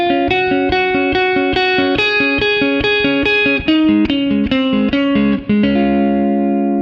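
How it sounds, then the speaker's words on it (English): Electric guitar with distortion and chorus effect plays a song's chorus line in standard tuning, a melodic series of picked notes ending on a held, ringing note, alone and up close. "So let's look at the chorus. It sounds like this."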